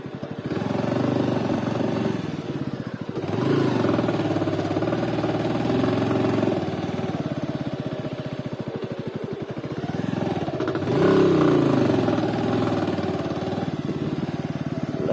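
Motorcycle engine running as the bike is ridden along a route near the Yamuna river, a steady close mid-pitched drone with mild swells in revs throughout.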